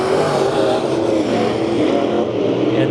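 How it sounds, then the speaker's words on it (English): Race cars in a heat race at Bakersfield Speedway roar continuously and loudly, engines holding a steady, dense drone with slight swells as the pack circles the track. "Our 4 cars left on the track are racing on the screen right now."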